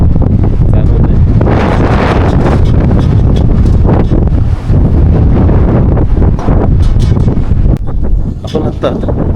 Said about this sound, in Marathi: प्रचंड असं वारा आपल्याला या ठिकाणी जाणवत आहे.